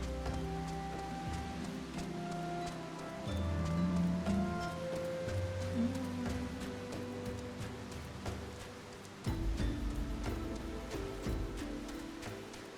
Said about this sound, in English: this is a pretty heavy rainstorm we're in